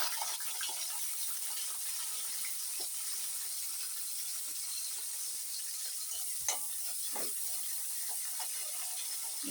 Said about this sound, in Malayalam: നല്ലെണ്ണ ചൂടായപ്പോൾ കടുക് ഇട്ടു കുറച്ച് ഉലുവ ഇട്ടു കരിവേപ്പില വെളുത്തുള്ളി